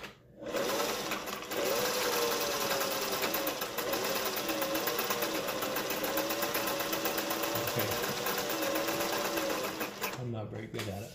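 A Singer 401A sewing machine runs continuously at speed, a loud, close, rapid mechanical whir and clatter lasting about ten seconds before stopping.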